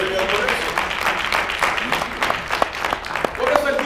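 A church congregation claps loudly during a sermon, a sustained crowd of hands striking together with faint voices mixed in.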